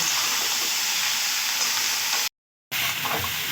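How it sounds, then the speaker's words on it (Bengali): Potatoes and cauliflower fry in a pan with a steady, close sizzle that fills the whole stretch, broken once by a short silent gap before the sizzling picks up again. "এবারে ভালো করে আস্তে আস্তে আমি 2 থেকে 3 মিনিটের মতন আলু আর কপিগুলো ভেজে নিচ্ছি"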